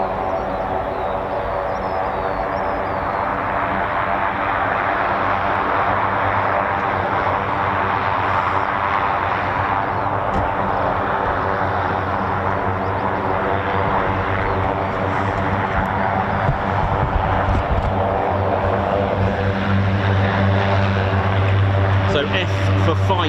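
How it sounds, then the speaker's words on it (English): An Embraer Xingu turboprop aircraft with a PT6 engine taxis out at an RAF air exercise, its loud, steady propeller drone and engine hum sustained throughout with a low rumbling tone that swells slightly toward the end. "So we've got the Xingu coming out now with the with my PT6 engine."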